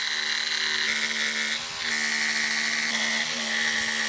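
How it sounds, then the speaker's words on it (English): A jigsaw cuts wood along a drawn line for a simple bookshelf face frame, a continuous high buzzing motor whine with a slight dip in pitch partway through, loud and alone. "now we're going to take our jigsaw and cut to the line"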